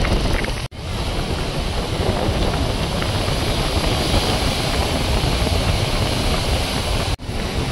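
Sea waves at Kollam beach heard from up on a lighthouse, a steady loud broadband roar of surf mixed with strong wind buffeting, continuous throughout with a couple of brief dropouts.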